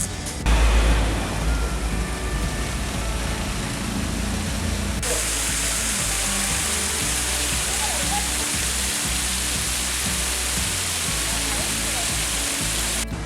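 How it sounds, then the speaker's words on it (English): Banjakri waterfall in Gangtok, Sikkim roars as a steady, loud wash of falling water that runs through the whole stretch without a break. "we have come to Banjakri waterfalls"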